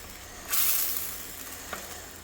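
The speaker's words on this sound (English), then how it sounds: "So in the same pot, I've now melted some butter." Butter melts in a pot, a sudden burst of bright hissing sizzle that settles into a steady fainter frying hiss with a couple of small pops, close and without speech.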